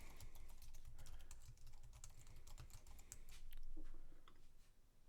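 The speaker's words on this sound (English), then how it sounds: "Let's type in some information here." Typing on a computer keyboard while filling in a WordPress page: a quiet, close, irregular patter of key clicks that speeds up and slows, with no talking.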